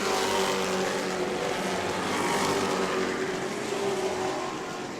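Race trucks circle an oval track in a heat race, a dense blended engine roar with a sustained droning tone, steady and moderately loud, heard from a distance without talk.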